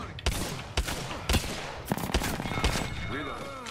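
Rapid video game gunfire, a string of sharp close shots in uneven bursts over roughly four seconds, with a voice faintly underneath.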